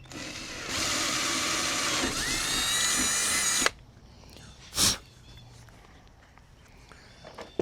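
A power drill bores through a plastic sit-on-top kayak hull with a 1/4 inch bit, whining loudly and steadily for about three seconds before stopping, followed by a brief knock and quiet handling sounds.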